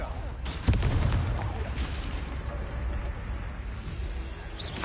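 A Confringo fire spell blasts in Hogwarts Legacy on PS4 with a sharp, booming burst, then a rumbling tail that fades over several seconds.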